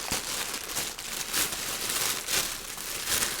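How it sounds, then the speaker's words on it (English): Plastic packaging around toilet paper crinkles and rustles as it is opened, a close, continuous crackling with a few louder scrunches and no talk. "So I'm gonna open this up and show y'all how shitty this toilet paper is."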